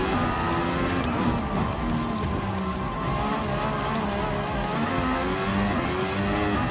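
Mercedes AMG race car engine in Gran Turismo Sport, a loud continuous high-revving roar with shifting pitch as gears change, steady and close throughout.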